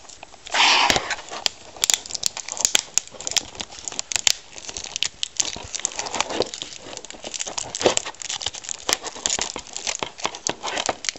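Crackly plastic wrapping is crumpled and torn off a Crysis 2 Limited Edition package, with close, irregular crinkling bursts and sharp tearing rips throughout.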